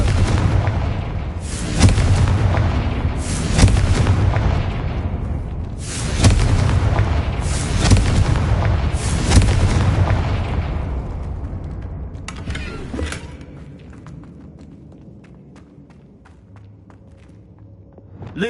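Repeated Confringo fire-spell blasts in the game Hogwarts Legacy, a series of loud, booming explosions every second or two, each with a rumbling decay, thinning out to scattered smaller bangs toward the end.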